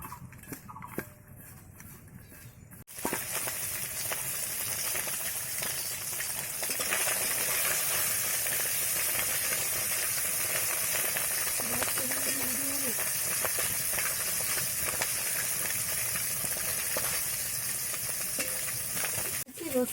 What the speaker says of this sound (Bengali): তেল দিচ্ছি কড়াই। মাছটাকে হালকা একটু ভেজে নিতে হবে।